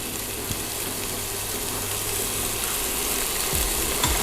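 Onions sizzling in a pot as the base for a crab broth, a steady hiss of frying running throughout with a few soft clinks near the end.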